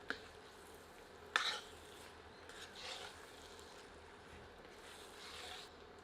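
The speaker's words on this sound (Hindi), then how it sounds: "करछी चलाकर सबको मिला देते हैं।" Pieces of mutton stirred with a ladle in a cooking pot, faint and close: a sharp clink of metal against the pot, then soft, scattered scraping and shuffling over a low, steady background hiss.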